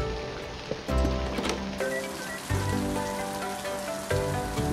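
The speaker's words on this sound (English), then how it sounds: "Oh, we have weather. It's apparently raining." Steady rain falling in the video game Littlewood, a continuous hiss of drops on surfaces with some layered game music and chimes above it, no talking.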